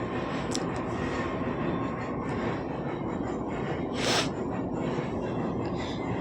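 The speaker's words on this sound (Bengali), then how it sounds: "আর দেখো ট্রেন যাচ্ছে, আমার এখানে আওয়াজ হচ্ছে ব্যাকগ্রাউন্ডে" A train rolls past in the background, its steady broadband rumble filling the whole stretch with a brief brighter swell midway, fairly loud and continuous, with no talk over it.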